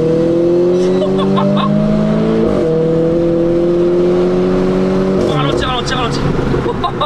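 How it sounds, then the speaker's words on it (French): A Renault Clio 4 RS with a stage 3+ tune revs hard up close, its engine note climbing steadily through the gears with sharp crackles at each shift, loud and continuous with road noise underneath. "Le claquement au passage de rapport est quand même magnifique"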